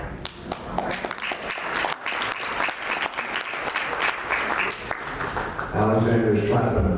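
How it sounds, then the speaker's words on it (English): An audience at a chamber of commerce keynote speech breaks into applause, a rapid, dense patter of clapping that swells and carries on, with a voice coming in over it near the end. "Alexander's clapping."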